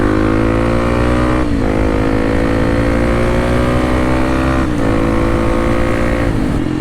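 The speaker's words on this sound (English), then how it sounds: "I'm teaching y'all tips and everything for wheeling on the KLX300" A Kawasaki KLX300 dirt bike engine roars loud and close during a wheelie, holding a steady high drone with pitch climbing between a few quick dips at the gear changes.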